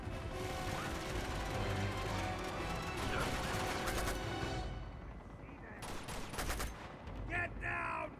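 Rapid gunfire from an Uncharted 2 firefight, with dense bursts of shots over steady combat noise. Sharper, scattered cracks and clatter follow later.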